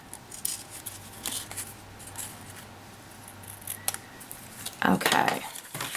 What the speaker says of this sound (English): So I'll just snip underneath there